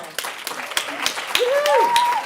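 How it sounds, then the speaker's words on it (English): Scattered applause for students at a scholarship celebration opening ceremony, a few sharp claps spaced out while a voice calls out and whoops over them. "We give you a round of applause as well."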